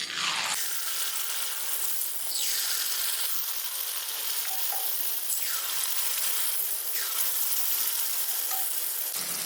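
Banana paniyaram batter hits hot oil in a paniyaram pan, an abrupt onset into a steady, loud, continuous sizzle that fills the whole stretch, with faint occasional scraping underneath and no voices.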